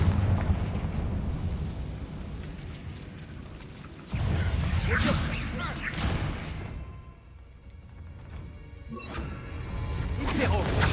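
Confringo fire spell blasts in Hogwarts Legacy, loud crashing explosions in close succession with a heavy impact around the middle, amid busy game effects and a voice speaking.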